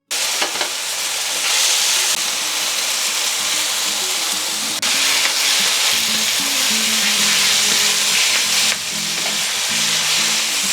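Tomatoes fry loudly in a pan for a vegetarian lasagna, a dense, continuous sizzle with steady hiss and faint stirring, and no talk over it.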